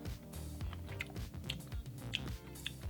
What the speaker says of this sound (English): Alright, so chewing it.